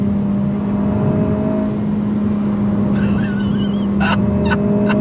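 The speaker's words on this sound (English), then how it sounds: "Hit the rev limiter there." A 2022 Honda Civic Si's engine holds a steady, loud drone while driven hard through corners, with a few brief sharp bursts near the end as it reaches the rev limiter.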